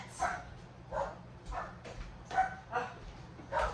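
A dog barks at the mailman, about seven sharp barks in an uneven rhythm over several seconds, fairly close and clear against a quiet indoor background.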